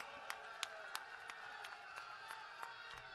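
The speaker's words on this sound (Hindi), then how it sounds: "आप ताली बजाओ।" Audience clapping at an outdoor political public meeting in Amritsar, Punjab: a steady wash of many hands clapping with distant crowd murmur, a few sharper claps standing out at regular intervals, moderately faint throughout.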